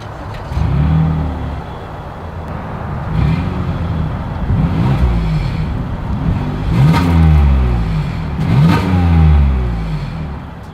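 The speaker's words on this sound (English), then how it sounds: "As always, here is that exhaust clip." A 2022 Toyota Highlander SUV's exhaust rumbles at idle and is revved several times, each rev rising and falling, loud and close.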